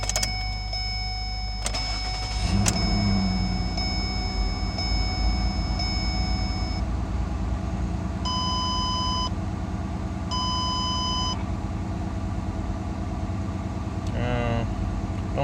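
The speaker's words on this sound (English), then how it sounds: "We are experiencing a misfire right now." Ford Escape engine idling with a misfire, a low steady rumble heard from close by, with several electronic chimes and a short whirring sound partway through.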